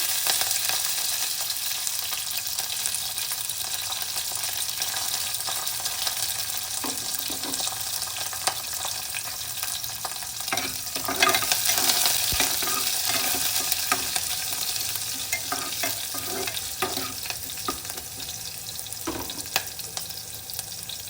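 Cumin seeds, curry leaves and green chillies sizzle steadily in hot oil for a sorakaya curry, a continuous frying hiss with scattered crackles and soft stirring clinks, close and moderately loud, no talking.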